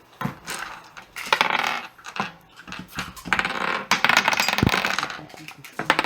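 Dice rolled for initiative at a tabletop Dungeons & Dragons session, several sharp clattering bursts on a hard surface, close by, with brief murmured voices between rolls.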